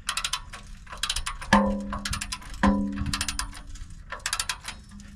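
A ratchet wrench clicks rapidly in close bursts while oil pan bolts on a Cummins ISX15 truck engine are retightened, with a couple of metallic clanks between the bursts and no speech.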